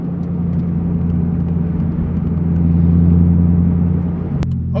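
A Chevrolet Corvette C6 Z06 with cut-out mufflers drones with a loud, steady low engine rumble, heard from inside the car, with a sharp pop or click near the end.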